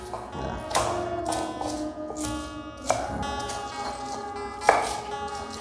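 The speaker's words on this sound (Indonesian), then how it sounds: "Bawang putih, bawang merah, ketumbar kita ulek aja ya." Garlic, shallots and coriander are pounded in a stone mortar, giving a slow series of hard taps and thuds with a few sharper strikes amid a faint background hum.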